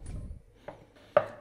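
Fontina cheese cut into small cubes on a board for a Bolognese sauce: a few soft, sparse knife taps, quiet and close, with no talking.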